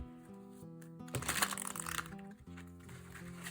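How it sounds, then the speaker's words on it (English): A deck of Bee Tarot cards is shuffled by hand, giving a quiet burst of dense riffling flutter in the middle, heard faintly under soft background music, with no talking. "See how it shuffles as well."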